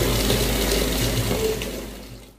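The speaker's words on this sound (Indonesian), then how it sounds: "Ini keran air yang disediakan untuk berwudu" Water runs steadily from a tap provided for ablution in a cafe prayer room, a continuous splashing hiss that fades out at the end.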